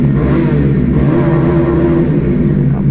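A 2024 Bajaj Dominar 400 motorcycle is held at full throttle, its exhaust roaring loud and close in a continuous, gritty rev with no talk.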